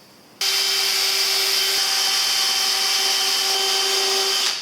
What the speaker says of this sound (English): I'm going to add a couple of pilot holes here for the screws